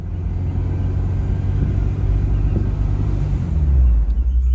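A Honda S2000 fitted with a titanium twin loop exhaust runs close by, giving a deep, steady engine rumble that swells slightly near the end, with no one speaking over it.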